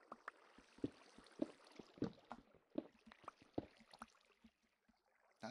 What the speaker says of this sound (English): That's why there's fucking flowing water.